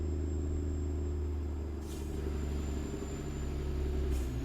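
An 8V92 diesel truck engine in American Truck Simulator runs at a steady idle, a loud, continuous low rumble with faint hissy bursts, heard alone without talk.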